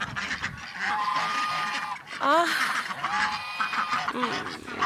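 Farm geese honk in repeated bursts, loud and close, with a voice speaking briefly among the calls.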